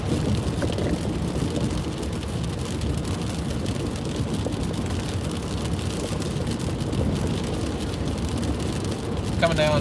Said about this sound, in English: Freezing rain at its best.